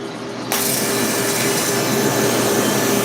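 A TIG welding arc fusing the tungsten into the filler rod: after a short quiet moment, a steady, close electric hiss and buzz starts abruptly and runs on unbroken.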